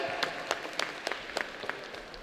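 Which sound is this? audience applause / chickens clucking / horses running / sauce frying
audience applause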